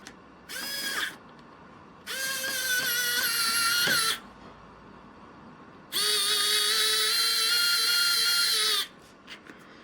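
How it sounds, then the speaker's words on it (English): A cheap rechargeable electric screwdriver with metal gears drives screws during a glider build, three whirring bursts, the last longest at about three seconds, close and clear with quiet between. "electric screwdriver, rechargeable, absolutely cracking"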